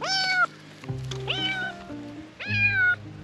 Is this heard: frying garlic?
no